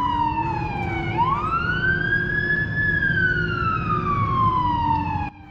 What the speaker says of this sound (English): Hear the fire truck go past our house?